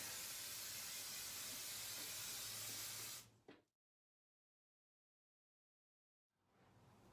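A loud, steady hiss of spraying close by for about three seconds, cutting off to silence before hissing resumes faintly.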